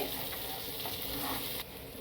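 Masala-coated fish fries crisp on a hot tawa, giving a close, steady sizzle with a dense, even hiss that dips slightly in level near the end.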